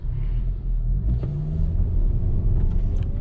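A 2024 Mazda 3 with a manual gearbox pulls out and drives off, a close, continuous engine rumble and road noise with no voices.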